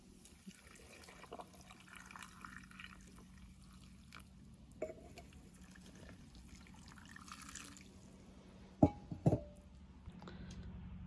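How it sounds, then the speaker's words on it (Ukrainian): Boiling marinade is poured into jars packed with cucumbers, a faint trickle and drip of liquid with a few soft clinks of glass near the end, quiet and without talk. "Маринад закипів, заливаємо його в слоєчки до огірочків."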